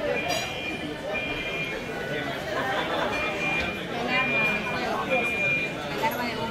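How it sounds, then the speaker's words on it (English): An alarm going off at La Rosa Náutica, a restaurant in Peru, sounds as a steady high electronic tone with repeated beeps, running under loud crowd chatter and nearby talking for the whole stretch. "There's an alarm going off."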